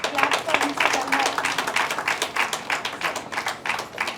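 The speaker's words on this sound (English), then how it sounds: "Can we all clap for Mr." Audience applause at an Ayurveda Day award function as a brother collects an award on the recipient's behalf: a moderate room of clapping with uneven rhythmic bursts throughout, steady and mid-distance.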